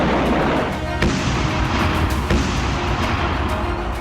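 A blast in Saudi Arabia is heard as a dense, roaring rumble with a sharp burst of impact partway through. It stays loud and broadband throughout, with no voices over it.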